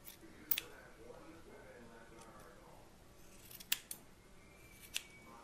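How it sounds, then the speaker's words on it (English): Quiet snips of scissors trimming a Miniature Schnauzer's paw hair, three distinct cuts spaced a few seconds apart against a soft background hush. "just take your scissors and round out their feet"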